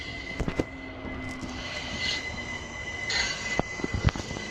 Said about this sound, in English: We have another overground train coming.